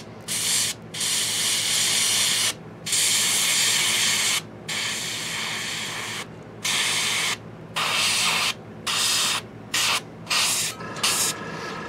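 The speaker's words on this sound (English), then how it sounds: "So I'm just spraying and concentrating right down into the recesses of it." An airbrush sprays skin-tone paint onto a Reaper Miniatures hill giant lowland warrior figure, giving close, steady bursts of hiss separated by short pauses that get quicker toward the end, with no voices.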